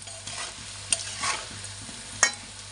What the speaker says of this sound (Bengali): আলু ভাজা হয়ে গেছে, একটু হলুদ দিয়ে দিলাম যাতে আলুর কালারটা সুন্দর আসে